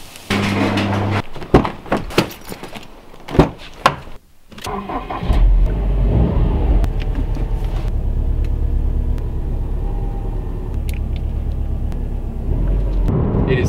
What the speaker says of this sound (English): It is so good to be back in the Rexy. Miss driving it.